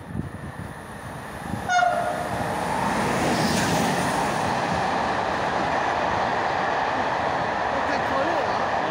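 An RER D commuter train at Maisons-Alfort station sounds a brief horn and then rumbles past steadily and loudly, with voices talking on the platform.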